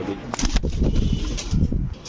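Close, low coos of imported fancy pigeons come in short throaty bursts, with a soft rustle around them.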